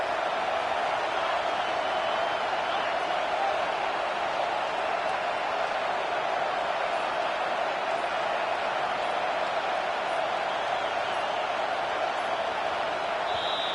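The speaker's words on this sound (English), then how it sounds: "listen to this crowd noise. This stadium is vibrating." Steady stadium crowd roar at the Auburn vs Ole Miss football game, a dense continuous wash of many voices holding at an even level for the whole stretch with no distinct breaks.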